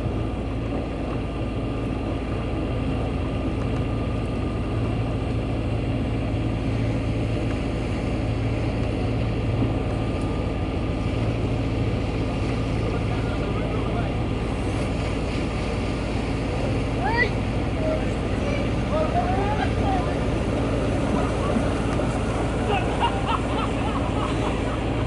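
A steady low boat engine drone rumbles continuously with faint water wash while reversing on the Norfolk Broads, with no change in pace or loudness.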